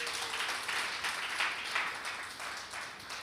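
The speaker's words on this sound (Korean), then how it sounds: "주님께 영광의 박수 올려드리겠습니다" A church congregation at a Friday worship service applauds, a steady wash of many hands clapping at a modest distance for a few seconds, fairly quiet and without speech.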